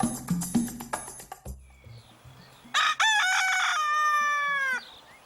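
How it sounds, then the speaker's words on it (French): Black Janzé hens kept in a Calvados cider orchard cluck in a scattered, uneven run, then a rooster lets out a loud, drawn-out crow close by, with no talking. "nous avons installé dans la partie éco qui est ici 30 poules, les noires de Janzé"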